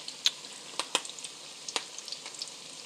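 Tuna croquette patties, three at a time, deep fry in oil with a quiet, steady sizzle broken by scattered sharp pops and crackles.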